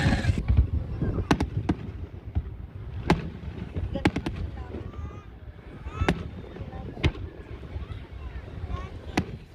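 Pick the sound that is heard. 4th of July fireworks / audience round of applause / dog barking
4th of July fireworks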